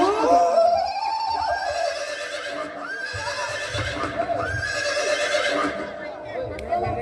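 A horse whinnies loudly and close, a long descending neigh followed by several further rising-and-falling calls, with faint background murmur and low thumps.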